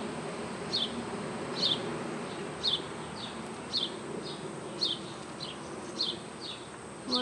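Honey bees hum in a steady, close drone around an open, roomy hive with brood frames, while individual bees zip past the listener in short passes roughly every second.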